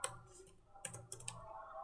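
Key clicks on a computer keyboard while entering a job title into a software account setup form, a few separate taps and short bursts close by, with no talking.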